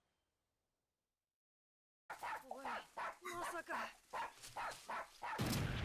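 A tiny dog in a Naruto Shippuden anime episode barks repeatedly in quick, sharp yaps, mixed in among spoken dialogue after a stretch of silence.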